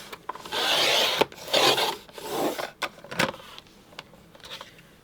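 Rotary paper trimmer slicing a strip of scrapbook paper: several short rasping, rubbing strokes in bursts, close and moderately loud, with brief gaps and small clicks between passes.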